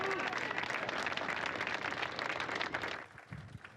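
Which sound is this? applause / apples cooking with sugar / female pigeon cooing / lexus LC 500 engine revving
applause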